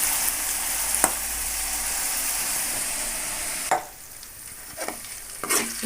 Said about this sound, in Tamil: இப்போ வந்து இந்த தக்காளி வெங்காயம் நல்லா வதங்கி இதில் வந்து இந்த எண்ணெய் நல்லா பிரிஞ்சு வந்துருச்சு